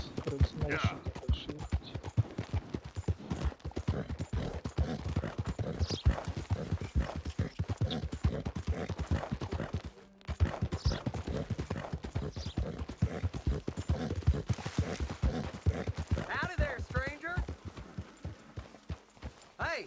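Steady clip-clop of horse hooves trotting along in a video game, a continuous rhythmic clatter close by, with a brief pause midway and a faint whinny near the end.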